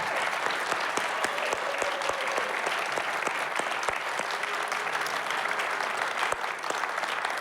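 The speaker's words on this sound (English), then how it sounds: "Can we have another round of applause" Audience applause following a poetry and song performance at a spoken-word festival, a steady spread of many hands clapping at moderate volume with distinct individual claps popping through, continuing evenly throughout.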